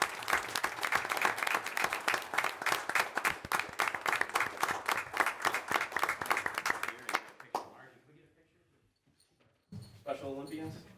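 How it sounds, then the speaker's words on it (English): Sustained crowd applause for Special Olympics athletes at a board meeting, dense clapping for about seven seconds, then it fades and voices take over. "How about a round of applause for our special athletes?"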